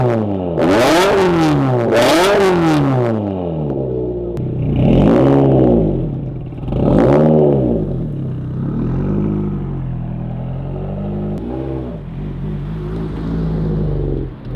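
A turbocharged Subaru BRZ with an aftermarket exhaust is blipped hard several times, each sharp rev rising and falling, then drops back to a low, burbling idle, heard loud and close.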